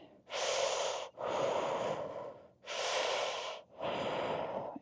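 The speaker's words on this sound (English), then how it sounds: "Breathe." Four long, deep breaths during a fascia stretching class, each a broad airy rush with short pauses in between, close and steady, no talking.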